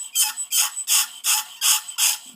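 A metal calligraphy nib is scraped back and forth across a sharpening stone, about seven evenly spaced raspy strokes in quick rhythm, close and crisp with no voices.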